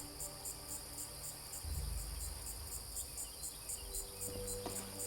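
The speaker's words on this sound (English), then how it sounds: "You can shut the crickets up by making some noise" Crickets chirp steadily in Fallout 76, a continuous high pulsing trill that repeats evenly throughout, with faint low rumbles and a few soft thuds underneath.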